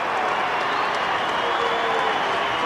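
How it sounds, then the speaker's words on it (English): Football fans in the outer at an AFL match in Adelaide applaud as players leave the ground, a steady wash of distant crowd clapping and murmur across a large stadium. "they're getting some applause from the fans in the outer, the Crows, as they bunch up to go off the ground."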